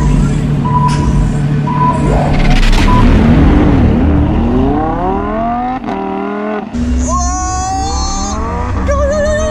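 Lamborghini and Rolls Royce cars racing, with loud, steady engine drone and rising revs sweeping upward through gear changes, close by and continuous, with a brief dip before the engine note climbs again.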